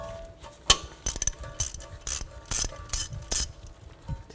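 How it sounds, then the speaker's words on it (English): A hand ratchet with a 10mm socket clicks in quick, repeated strokes, close and clear, while loosening the wheel speed sensor bolt on a 2007-16 GMC Acadia front hub. "Use a 10mm socket."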